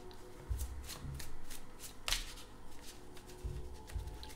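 A steampunk tarot card deck is shuffled close up, with several soft riffling bursts and some hand rustling between them, quiet and with no one talking.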